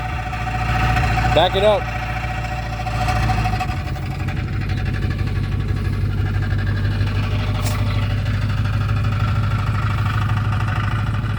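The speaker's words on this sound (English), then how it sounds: "That's the exhaust that you hear." A car that sat unused for four years idles after a transmission swap, its exhaust giving a steady low rumble throughout, with a voice speaking briefly near the start.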